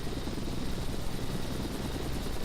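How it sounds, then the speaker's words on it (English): A steady, loud rotor-and-engine drone from a simulated aircraft in Flight Simulator X during a squadron helicopter flight, continuous and unbroken throughout with no talk. "Yeah, that's a plane."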